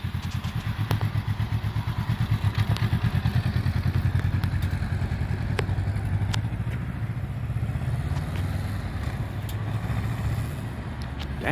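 A Honda Rebel CMX 500 motorcycle ridden on the road gives a close, steady low engine drone with light clattering ticks throughout, and no talking.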